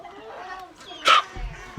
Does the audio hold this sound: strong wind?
no